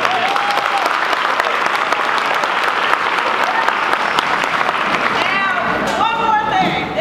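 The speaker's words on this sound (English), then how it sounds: "Give them one more big round of applause." Sustained applause from a school audience after a junior high seventh-grade band Christmas concert, dense steady clapping throughout with crowd noise and some voices mixed in.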